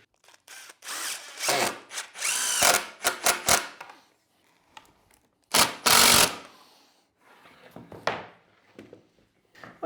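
A power drill drives screws into wood while building a router sled, several separate whirring bursts with short pauses between them, loud and close, no talking.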